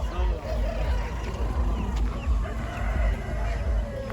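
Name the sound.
chickens and roosters at a poultry market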